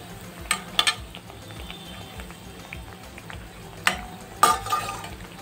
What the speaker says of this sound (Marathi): त्यामध्ये मग हे सर्व करताना असे तळायचे ब्रेड